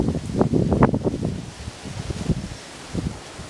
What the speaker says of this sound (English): the wind is still pretty bad.